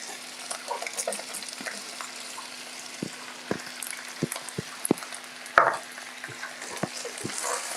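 Onions sizzle softly in a little oil, with a steady low crackle broken by several sharp clicks and knocks of stirring, close and fairly quiet, with no talking.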